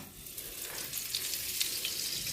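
Butter sizzles and crackles as it melts in two hot pans on a new stove set to medium-high, a soft, steady frying hiss heard close with no talking.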